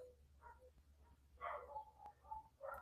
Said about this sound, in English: Some more dog barking.